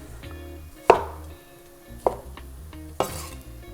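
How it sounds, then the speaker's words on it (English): A knife roughly chopping tomatoes on a board in a home kitchen while making butter chicken curry, three sharp distinct chops spaced about a second apart over quiet background. "Let's just roughly chop this."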